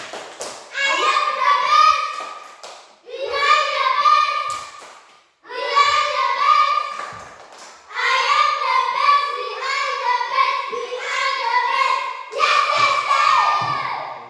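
Primary school children in a fourth-grade Indonesian classroom chant the rhythmic 'tepuk the best' clapping cheer together, several loud bursts of young voices with claps and thumps in short repeated phrases.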